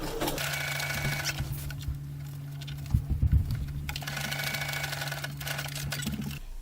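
A sewing machine stitches elastic onto a fabric face mask, humming steadily at close range with rapid needle chatter, pausing briefly midway before running again.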